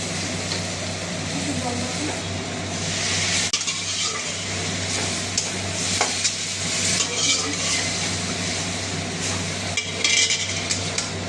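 Boiled, drained chickpeas go into a pan of frying masala for chana masala, with a steady broadband sizzle and stirring scrapes running throughout at close range, with faint speech in places.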